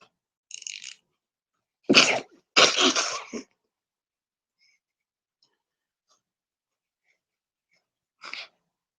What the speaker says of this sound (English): Now I'm sure that you heard that little sneeze of mine.